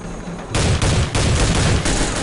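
Gunfire in the video game Soldier of Fortune II: loud, close bursts of rapid shots in quick succession with brief gaps between volleys.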